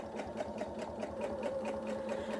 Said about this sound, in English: Again, stitching right next to the binding.